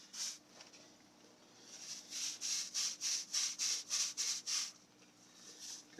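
Berkey water purifier filter element scrubbed by hand in a run of about ten quick, rhythmic rasping strokes, close and clear, with a few slower rubs before and after.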